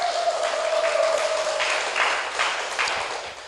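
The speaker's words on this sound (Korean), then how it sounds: "하실 분들만 박수 한번 주실까요?" Audience applause at a health talk on immunity, a broad wash of clapping from a seated crowd, moderately loud and steady before fading slightly, with a faint tone running underneath.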